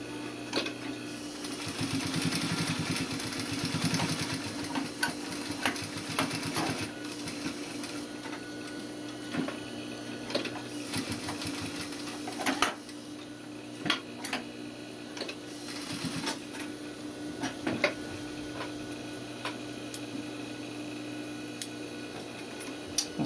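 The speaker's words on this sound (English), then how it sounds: "You could go ahead and then edge stitch all the way around the outside of your welt." A sewing machine edge-stitches around the outside of a welt pocket, running as a steady close mechanical whir with fast ticking needle strokes and a few brief pauses and clicks.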